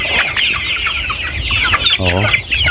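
Pet chickens clucking at feeding time, with busy overlapping clucks and squawks close by and one louder drawn-out call near the end.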